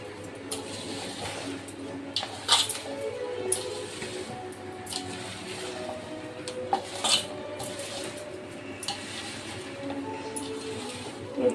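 Mango pickle being stirred in a bowl, giving soft wet squelches and scattered clinks of a spoon against the dish, steady and close with a low background hum.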